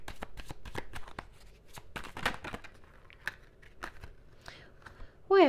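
Tarot cards are shuffled with a run of quick papery riffles and snaps, then slid and drawn in sparser flicks, close and fairly crisp, ending in a short louder burst.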